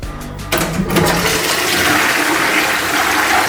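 A hotel bathroom toilet flushes loudly after a brief click of the handle, followed by a strong steady rush of swirling water that continues to the end.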